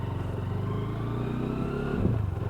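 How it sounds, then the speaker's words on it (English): WK Scrambler 125cc motorcycle engine running close by, a steady throbbing idle with a brief blip of revs near the end. "Starting the bike up does sound very, very good for a 125 bike"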